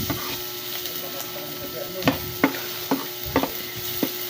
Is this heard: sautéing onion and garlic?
yes